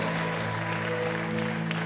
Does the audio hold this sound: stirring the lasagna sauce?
no